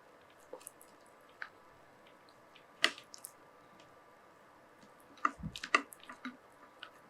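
Bread and jam being kneaded and squished by hand for jam pudding, with scattered wet squelches and sporadic louder squishes, quiet in between and no talk.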